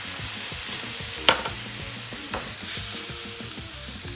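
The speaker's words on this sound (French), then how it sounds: "On déglace donc au vinaigre" Squid, chorizo and garlic sizzle steadily in a pan as vinegar goes in to deglaze, with a sharp hiss and a couple of clinks of a utensil over continuous close frying.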